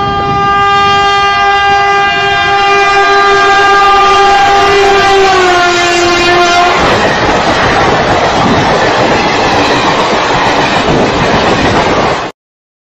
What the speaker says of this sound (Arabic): يركب في القطار من المحطة نتاع تمن راس، قطار سريع، قطار وكهرب